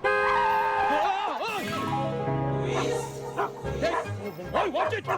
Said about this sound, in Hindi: मुझे क्या पता था बीच रास्ते में आ जाएंगे कुत्ते